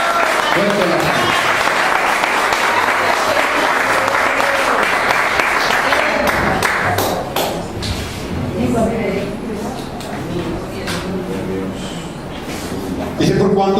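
Loud, steady applause fills a church service, a congregation clapping for the Lord, with voices and cheers mixed in and the clapping easing slightly toward the end.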